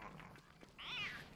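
A cat meows once in the video game Don't Starve Together, a clear rising and falling in-game cry that stands out briefly over a quiet background of game sounds.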